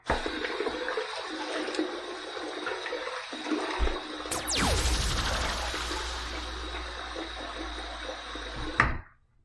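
Water runs steadily in a bathroom to wet a head before a razor shave, a constant broadband rush with a brief louder splash midway and an abrupt stop at the end.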